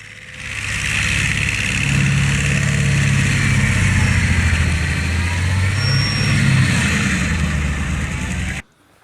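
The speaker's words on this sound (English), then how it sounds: "This tree stump removal system does an impressive and dramatic" A tree stump removal machine grinds away on a golf course with a steady, loud mechanical roar and engine drone that holds throughout and cuts off abruptly at the end.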